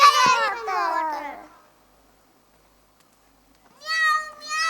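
At a pre-nursery school annual function, small children's voices imitate cat meows in high, drawn-out wails, two bursts separated by a silent gap of about two seconds.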